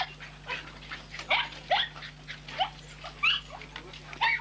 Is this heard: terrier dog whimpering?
yes